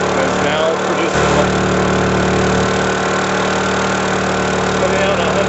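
A Honda portable generator running on JP-8 fuel hums steadily at a constant pitch, loud and close, with a voice speaking briefly over the engine.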